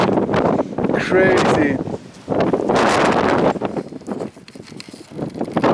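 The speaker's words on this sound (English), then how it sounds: "Pretty windy" Strong wind buffets the microphone in loud gusts on a mountain near frozen lakes on Mt. Whitney, while someone talks over it, the roar swelling and dropping throughout.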